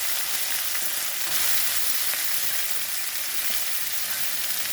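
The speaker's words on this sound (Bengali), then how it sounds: "এখন দিয়ে দেবো শাকটা।" Radish greens hit a hot pan and fry in a steady, loud, broadband sizzle that holds continuously without pause and with no voices.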